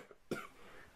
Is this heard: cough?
yes